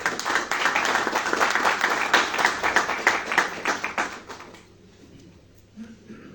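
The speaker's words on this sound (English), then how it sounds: "The big applause." An audience at a lecture event claps steadily and fairly loudly for about four seconds, then the applause dies away into near quiet with a few faint stray noises.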